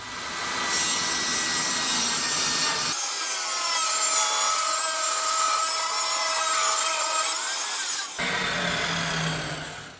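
A table saw rips a pine board lengthwise into a 6 foot by 10 inch shelf, a loud steady whine of the blade biting through the wood for several seconds, framed by the motor's hum before and after the cut, with no talking.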